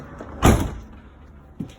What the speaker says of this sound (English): just close this door.